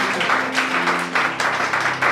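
A church congregation applauding, a steady, loud wash of many hands clapping together close by, with a low held tone from music or voices underneath.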